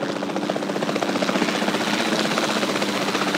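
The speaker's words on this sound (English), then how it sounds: "Then the sensible thing is to take a Capture Team helicopter" Capture Team helicopter in the video game Jurassic World Evolution 2, a steady loud rotor chop and engine buzz droning continuously and close, with no talking.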